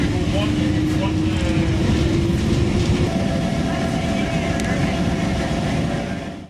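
Amalfi Coast line commuter train riding toward Salerno, with a steady loud rumble of wheels on rails and a sustained tonal whine from the running gear, continuous throughout before easing off at the very end.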